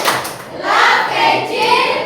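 A classroom clapping chant, tepuk kelas, performed by students in a lesson: a few sharp hand claps, then clustered clapping with faint vocal sounds mixed in.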